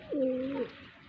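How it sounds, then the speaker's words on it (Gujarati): A pigeon that has come down to drink water gives a single soft, drawn-out coo close by, followed by quiet. "એરા કબૂતર જો પાણી પીવા આવે છે"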